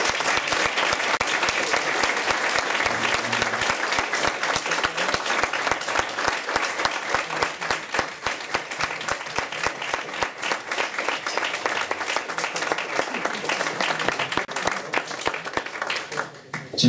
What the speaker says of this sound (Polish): No i wielkie brawa.